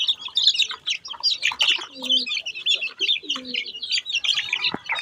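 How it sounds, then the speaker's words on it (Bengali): Chicken chicks chirp busily while pecking at a mash of feed and bran: a dense, continuous flurry of high, overlapping peeps, close and fairly loud, with a few lower coo-like notes underneath. "এই যে আমার মুরগির বাচ্চা।"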